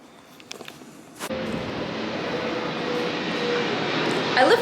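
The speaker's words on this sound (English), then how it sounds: "I live right next to the airport, and why does it sound like there's like a war happening every 10 minutes?" A fixed-wing airplane passes close by near an airport, a loud steady engine roar that starts abruptly and swells toward the end, after a few soft knocks.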